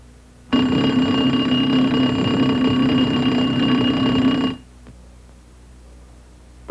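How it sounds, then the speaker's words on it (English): Troop alarm bell on a Boeing CH-47 helicopter ringing loudly and continuously for about four seconds with a steady electric buzzing ring, then cutting off abruptly, heard alone with no talking. "Each troop alarm box is equipped with a bell designed to alert passengers and crew with predetermined signals in the time of emergency."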